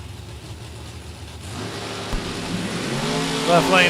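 A Chevrolet S10 and a Camaro drag car sit at the start line of a drag strip, engines rumbling, then revving and rising in pitch toward launch. A loud, close crowd-and-track background fills the scene.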